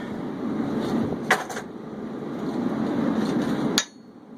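Sharp metallic hammer blows ring out at a forge while making blacksmith tongs from a lawnmower blade, a couple of quick strikes followed by a final louder clang, over a steady low background hum.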